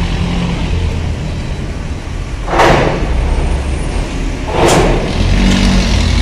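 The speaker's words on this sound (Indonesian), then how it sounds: "Kendaraan truk mulai dilepas untuk pemuatan" Trucks pull away at night at Bakauheni port to load onto a ferry, with two vehicles swelling past in turn over a constant rumble of idling engines.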